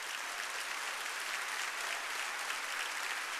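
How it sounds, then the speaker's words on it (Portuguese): Church congregation at a Baptist service applauds steadily, a dense, even wash of clapping from many hands without pause. "pode aplaudir"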